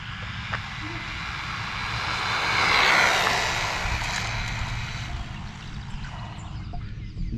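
Hyper Go 14301 RC truck driving at full throttle, a steady high motor whine with a broad rushing roar that swells toward the middle and then holds on, continuous and fairly close.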